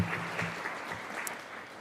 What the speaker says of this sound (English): You can clap for each of these people.